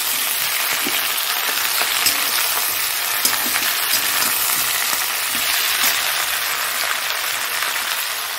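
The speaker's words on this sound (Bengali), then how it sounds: "এখন মাছটা ভাজা হচ্ছে, হোক।" Fish frying in a pan of oil, a steady, dense sizzle that holds close and fairly loud throughout with no pauses and no voices.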